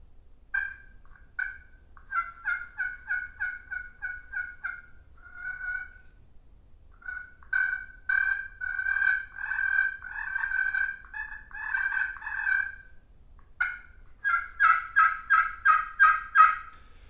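Slate turkey call worked with a striker produces sequences of yelps and clucks, rhythmic runs of raspy notes with short pauses between series, close and clear against a quiet outdoor background, played at low volume for birds in close.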